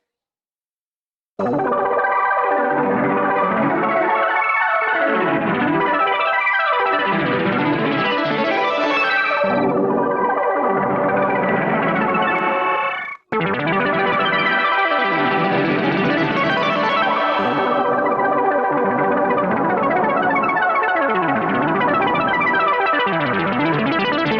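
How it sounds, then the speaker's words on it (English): A sustained, heavily processed tone through a delay effect, with repeating echoes that gradually morph into a washy, reverberant tail, briefly cutting out midway before resuming. "it kind of morphs into something a little more reverb like"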